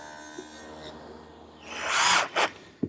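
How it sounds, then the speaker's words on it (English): A dado head cutter on a saw, set half an inch wide and three-quarters deep, bites through wood pieces, rising from a low hum into a loud, rough, close cutting roar that ends in a short second burst. "I've set up my dado head cutter for a 1/2 inch width, a 1/2 inch from the fence, and 3/4 of an inch depth"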